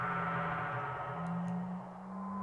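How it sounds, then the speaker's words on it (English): A sustained eerie tone, the planet's scream in Final Fantasy VII, hums with a dense, buzzing layer of harmonics. It shifts slightly in pitch and stays loud throughout, with no voices. "That was a scream from the planet."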